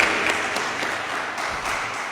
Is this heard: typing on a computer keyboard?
no